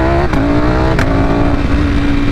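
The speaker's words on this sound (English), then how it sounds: "exhaust cracks now with that new shifter" A 2021 Ducati Panigale V4 SP with a BT Moto ECU flash and revised stage 2 quickshifter tuning roars loudly up close, its engine note rising as it accelerates, with two sharp exhaust cracks on the shifts.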